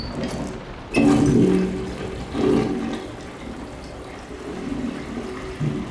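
Toilet flush in the video game Layers of Fear: a sudden loud whoosh of rushing water, then a second gurgling surge, fading into a trickling refill.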